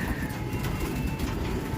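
Racing pigeons coo softly in a loft, low murmuring calls repeating faintly over a steady background rumble.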